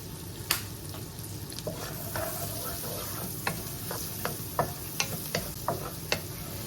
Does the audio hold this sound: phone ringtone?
no